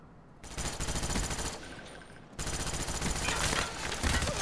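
Sustained automatic gunfire in a first-person shooter game, loud rapid shots running almost unbroken, briefly easing midway before resuming.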